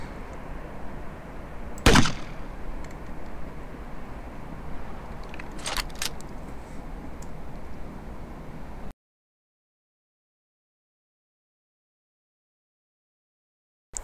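An M203 grenade launcher fires a smoke grenade in DayZ with one sharp thump, followed a few seconds later by fainter hissing pops, then the sound cuts to silence.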